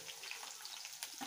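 Green chillies sizzle softly in hot oil in a pan, a faint, steady crackle with small spits and pops over a little more than a second.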